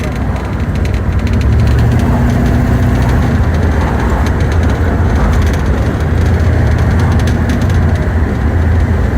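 A Pontiac Firebird engine runs steadily with a deep, low rumble throughout, loud and close, with a broad roar of driving or road noise mixed in and no clear talk over it.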